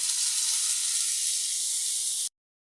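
Eggplant and potatoes fry in a hot pan with a loud, steady sizzle and hiss close by, cutting off abruptly near the end.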